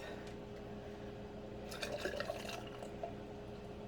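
Grape juice pours and gurgles into canning jars, quiet and brief, over a low background hum.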